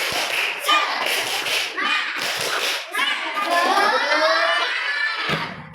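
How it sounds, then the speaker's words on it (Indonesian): A classroom of children performs the rhythmic tepuk semangat clapping chant, with bursts of claps and thumps alternating with loud shouted chanting voices, close and energetic, then a sudden cutoff. "Sekali lagi, tepuk semangat."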